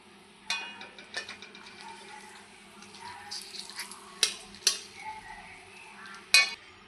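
Two bay leaves go into hot oil left over from frying potatoes, producing a faint, low sizzle broken by several sharp clicks and taps of a utensil against the pan.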